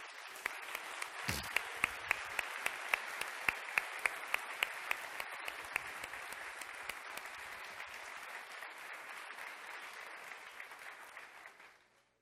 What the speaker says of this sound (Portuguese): Você pode mais uma vez dar um aplauso pelos comprometidos?